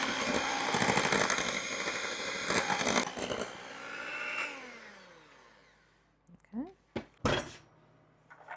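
A mixer whirs through cake batter for an old-fashioned pig pickin' cake in a bowl, a loud steady drone that winds down and stops, followed by a few clanks of utensils and a brief voice.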